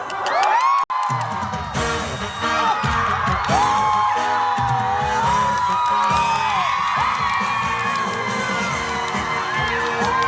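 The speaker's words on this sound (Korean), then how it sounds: "박수!" A large outdoor crowd at a sports festival concert cheers, whoops and shouts loudly and continuously, with children's voices prominent and a sharp bang near the start.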